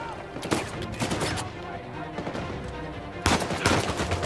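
Loud, close gunfire from Uncharted 4: A Thief's End arrives in rapid automatic bursts and scattered single shots. A dense volley erupts near the end, with no talk over it.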